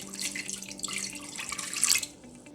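Water splashes from a pour into a pressure cooker holding lentils and garlic, a close, bright stream lasting about two seconds before it cuts off abruptly.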